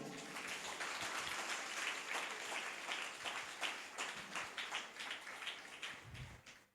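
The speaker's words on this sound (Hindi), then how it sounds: "आइए हम उसके नाम की जोर से ताली बजाएं।" A church congregation claps hands together at a worship service. The clapping is dense and rhythmic, fairly faint, and slows toward the end.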